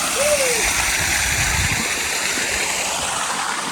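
Steady rushing water from a stream at Kunjan Odai bridge flows continuously and fairly loud, with a brief splash and a faint voice-like tone near the start.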